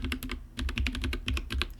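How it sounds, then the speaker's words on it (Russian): An old mechanical keyboard is typed on in a quick, uneven run of crisp clacking keystrokes, close and clear, with no talking. "начнем с моей старой клавиатуры"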